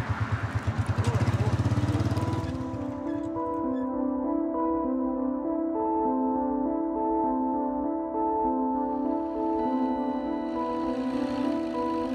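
A motorcycle carrying riders past a Syrian oil refinery, its engine loud and close with a rough rhythmic rumble at first, then settling into a steady droning hum with tonal whine.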